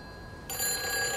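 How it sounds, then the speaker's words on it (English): A telephone rings in the video game Everybody's Gone to the Rapture, a bright ringing tone starting partway through over a hissy, noisy background, fairly quiet overall. "Oh, a phone."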